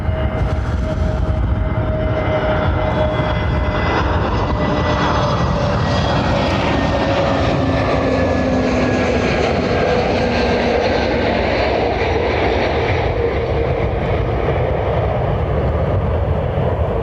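Airbus A320 airliner landing at Lanzarote Airport, a steady loud roar of jet engines and rushing air lasting throughout, with faint whining tones sliding slowly in pitch as the aircraft passes.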